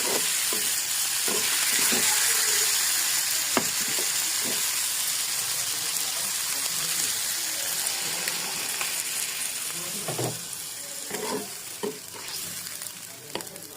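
Mola fish curry in a pan hisses and sizzles steadily after a little water goes in, with scattered soft clinks and stirring knocks over the bubbling.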